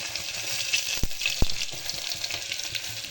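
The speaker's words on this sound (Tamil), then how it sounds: "காஞ்ச மிளகா, கருவேப்பிலை, அடுத்தது இஞ்சி பூண்டு, சோம்பு சரிங்களா. எல்லாம் போட்டுக்கலாம்." Dried red chilies, curry leaves, ginger-garlic and fennel seeds fry in hot oil with a constant close sizzle, broken by two sharp knocks of a spoon against the pan.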